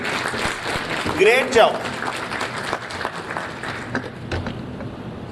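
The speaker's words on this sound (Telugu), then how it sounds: "ఒకసారి చప్పట్లతో." An audience at a youth parliament event breaks into applause, a broad clapping wash lasting several seconds, with a voice briefly speaking over it and a stray knock.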